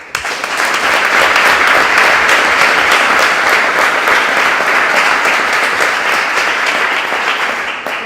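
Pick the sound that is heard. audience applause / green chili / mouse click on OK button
audience applause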